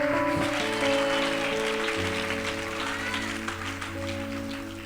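Congregation applauding during a Sunday sermon in a church hall, broadband clapping filling the room over sustained keyboard or organ chords, fairly loud and steady throughout.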